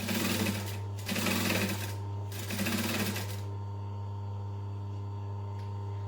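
A sewing machine stitches quilting cotton in three short runs of rapid, even needle chatter over a steady motor hum, stopping after a few seconds while the hum lingers.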